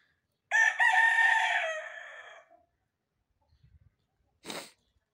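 A rooster lets out one loud, close crow that trails off over about two seconds. After a near-silent pause there are faint rustles, then one short sharp squawk from the yard flock.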